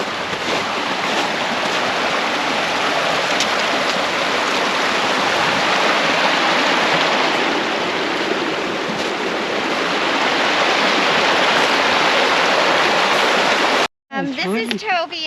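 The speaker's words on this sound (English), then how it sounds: "Heard some running water, so you know I like to investigate." A mountain stream on the Mt. Tammany hike in the Delaware Water Gap, running steadily with a broad, close rushing wash that fills the whole stretch before cutting off near the end.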